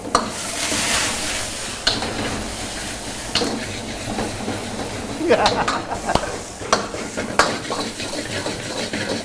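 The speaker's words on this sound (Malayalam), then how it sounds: "ആദ്യം കുറച്ച് എണ്ണ ഒഴിച്ചു അതിനുശേഷം കുറച്ച് ഇഞ്ചി ഇട്ടു അതിനുശേഷം കുറച്ച് വെളുത്തുള്ളി സ്ലൈസ് ചെയ്തിട്ടു" Ginger and sliced garlic frying in oil, a crackling sizzle with bursts of stirring, scraping and utensil clatter against the pan, busier toward the middle, with a voice talking at times.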